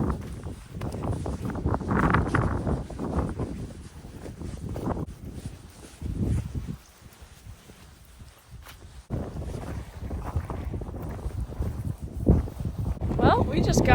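Gusting wind buffets the microphone on a hiking trail, rising and falling in loud rumbling bursts with a calmer lull midway, while a person talks over it.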